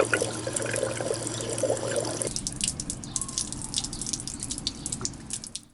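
A 12-volt battery-powered portable shower pump set inside a water container, running with a hum that cuts off and leaves water trickling and dripping close by, no talk.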